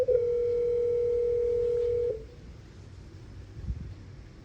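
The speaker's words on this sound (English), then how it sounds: "I can hear it ringing, but no one's there to pick it up." A telephone rings inside a building during a hurricane, one long steady electronic tone that holds for about two seconds and then cuts off, leaving faint room noise and a soft knock.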